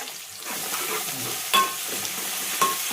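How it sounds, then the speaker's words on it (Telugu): Onion, ginger and garlic fry in a hot pan, a steady close sizzle broken by a couple of sharp scraping stirs of a spoon. "ఇప్పుడు చూడండి వేగింది ఉల్లిగడ్డ అల్లం ఎల్లిగడ్డ వేసాం"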